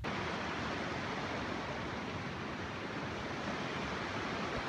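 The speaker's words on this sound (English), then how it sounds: "This is the waterfall that was here in the morning, but we couldn't see it because it was dark." A waterfall on Longs Peak, heard as a steady broadband rush of falling water that stays even and fairly loud throughout with no other sounds.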